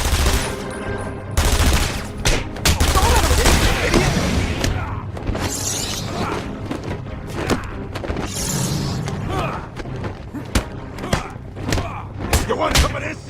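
Dense, loud gunfire in rapid bursts and sustained volleys with heavy booms and thuds, nearly continuous and close, with a few sharper isolated shots near the end.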